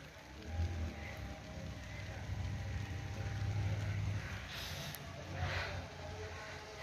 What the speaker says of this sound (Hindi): तो बारिश जो है अब वो ज़्यादा तेज़ हो चुकी है